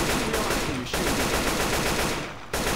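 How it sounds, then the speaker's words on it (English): Rapid, sustained gunfire in Left 4 Dead 2 at the Dark Carnival coaster, a dense continuous rattle with two brief breaks, loud and close throughout. "Hey, who shot Zach, you shot him"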